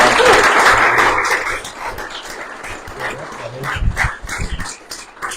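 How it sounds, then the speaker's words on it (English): An audience at a real-estate investing conference applauds, loud clapping at first that thins out, followed by scattered sharper bursts toward the end. "let's give them a round of applause"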